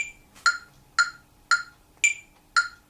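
Steady metronome clicks at 114 bpm, five evenly spaced sharp ticks, crisp and close with nothing else playing.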